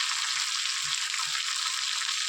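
Mutton being stir-fried in a pan for a Bengali kosha curry, giving a steady, dense, close sizzle without a break, with faint low knocks from stirring underneath.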